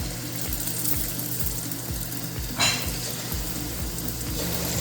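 Spoonfuls of pholourie batter fry in hot oil with a busy, steady sizzle and bubbling, punctuated by soft rhythmic pops and a brief louder splash midway.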